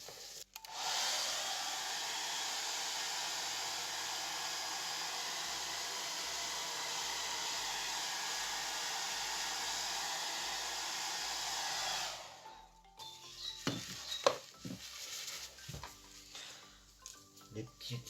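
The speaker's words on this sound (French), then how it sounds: "Un petit coup de sèche-cheveux" Hair dryer blowing steadily over a wet acrylic pour painting for about eleven seconds, loud and close, then switching off to leave scattered small taps and handling noises.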